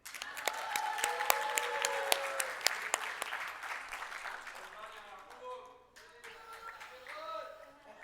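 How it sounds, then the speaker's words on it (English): Audience clapping at a small-group report session, a dense patter of claps that is strongest at the start, fades toward the middle and swells again briefly near the end, with voices mixed in. "So I want you please to clap for him."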